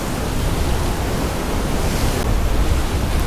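Heavy waves and surf crash and churn at a Gulf jetty during a tropical storm, a dense, steady, loud wash of water noise with no voices.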